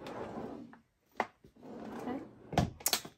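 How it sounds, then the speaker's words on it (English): A pouch drawer opens and closes with a sliding rub, then a couple of sharp knocks and clunks near the end, close by and fairly quiet, with a little voice in the background. "I'm going to put it in my pouch drawer right now"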